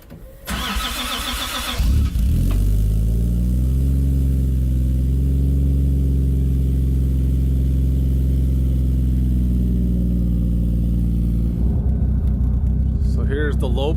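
A Nissan 240SX with a swapped 1JZ engine and 264 cams starts up and settles into a loud, near, uneven lopey idle that holds steady, with a brief rev at the end.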